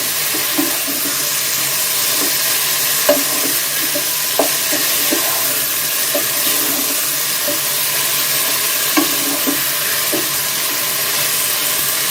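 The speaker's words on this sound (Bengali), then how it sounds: "এইভাবে আমি মাংসগুলা আলুগুলা ভেজে নিব" Meat and potatoes fry in a covered pan with no water added, giving a steady soft sizzle with occasional light pops and clicks, close and even throughout.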